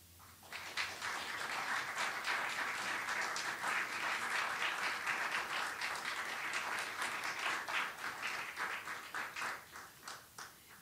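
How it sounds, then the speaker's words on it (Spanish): An audience at a university honorary doctorate ceremony breaks into steady, sustained applause that swells quickly, holds for several seconds, then thins into scattered claps toward the end. "Muy fuerte aplauso, por favor"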